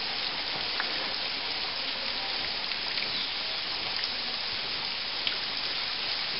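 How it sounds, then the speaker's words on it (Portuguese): Torrent of water from a spring pouring down after a flash flood (cabeça d'água) near Vieira, Teresópolis, a dense, steady rushing roar filling the whole scene without letting up. "É a goteira da nascente que tá caindo aqui, ó."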